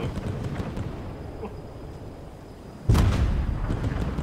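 A tank cannon fires in the Fortnite video game with a single sudden, loud, close boom, followed by a heavy rumbling roar that carries on after a quieter stretch of game noise.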